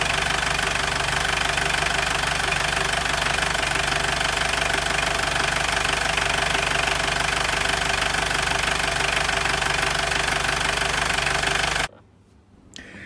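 A Mitsubishi L200 Triton with a 4D56 diesel engine runs after a timing belt repair: a loud, steady, rattling diesel clatter continues without a break, then cuts off abruptly near the end, leaving near silence.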